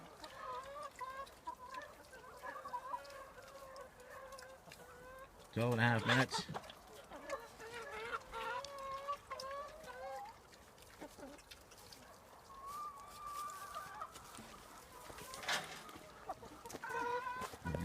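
Chickens cluck in short, pitched bursts while eating tomatoes, close by, with one louder flurry of calls; someone talks over much of it.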